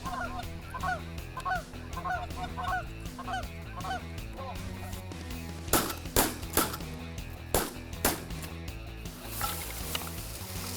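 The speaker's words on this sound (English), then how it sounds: "geese to the left, geese to the left" Several Canada geese honk in repeated bursts at moderate distance, followed by a series of sharp gunshot-like bangs.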